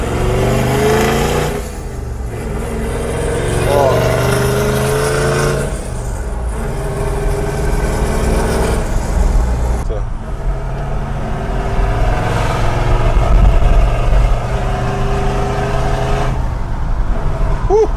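A 2021 Toyota Land Cruiser 79 with a 4.5 diesel engine rumbles loudly and revs in surges, heard up close from inside the cabin, with a brief exclamation partway through.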